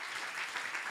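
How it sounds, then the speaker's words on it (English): Church congregation clapping for Jesus during a service: a brief burst of steady, dense crowd applause, moderately loud. "Come on, let's clap for Jesus."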